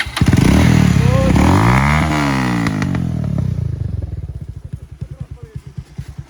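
A modified 220 motorcycle engine starts loud and close, revs up and falls back, then settles into a rapid, throbbing idle.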